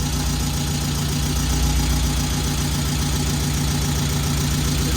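Saab 900 Turbo engine idling steadily with an exhaust leak, a close, even low rumble with a rhythmic ticking pulse and no talk.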